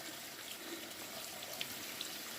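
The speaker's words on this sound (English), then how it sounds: "I've rinsed this as much as I can with water." Running water rinses a paint brush at a sink, a faint, steady trickling wash with small splashes, continuous and without speech.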